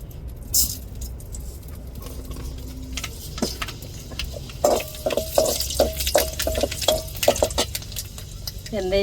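Fenugreek seeds crackle and sizzle in hot oil for tempering, after the fish has been fried for a crab curry, with a steady frying hiss, spoon stirring and a run of sharp ticking pops partway through.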